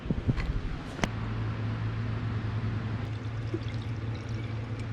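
Tap water is tipped out of a plastic container for an ozone test, giving a short close splash followed by a steady pouring, gurgling stream that continues at an even level to the end.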